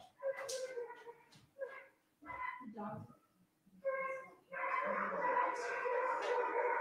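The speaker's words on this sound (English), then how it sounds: "dogs decided they wanted to bark a lot right now" Several dogs bark, yip and howl in uneven bursts indoors, rising into a sustained, overlapping chorus of howls toward the end, with a person speaking faintly at points.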